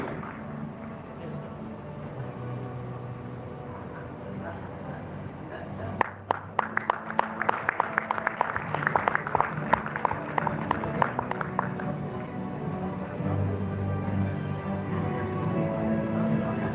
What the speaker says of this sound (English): let's put our hands together and give Income Spence Travel a round of applause